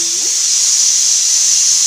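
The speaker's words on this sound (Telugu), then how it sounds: "మనం పెట్టిన పప్పు విజిల్ ఒకటి వచ్చేసిందండి ఇక బంద్ చేస్తున్నాను" Steam hisses loudly and steadily from a pressure cooker of lentils, one continuous release with no pause.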